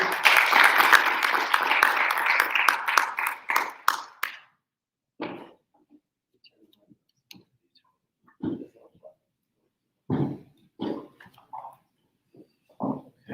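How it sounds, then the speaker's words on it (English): Audience applause for an esports and gambling panel at a conference, a dense burst of clapping for about four seconds that cuts off sharply, followed by scattered faint thumps, clicks and stray handling noises in near silence. "let's have a round of applause for our"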